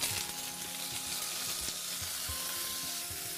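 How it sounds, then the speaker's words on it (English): Mussels with carrot, celery and garlic hit hot olive oil in a pan, giving a steady, fairly soft sizzle with occasional light clatters and shuffles as the pan contents settle, no voices. "Your olive oil is nice and hot, and you throw that in."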